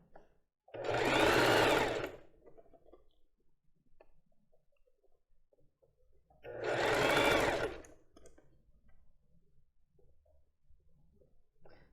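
Two distinct bursts of a sewing machine stitching lace over a bra cup, each a couple of seconds of fast, close whirring, separated by quiet pauses with faint handling noises.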